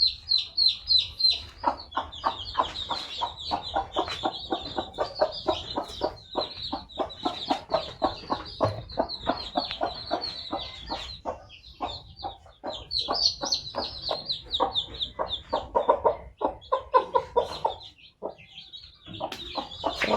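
A hen clucking steadily in rapid repeated calls while her newly hatched chicks feed on a village farm, close and continuous, with faint chick peeps in places.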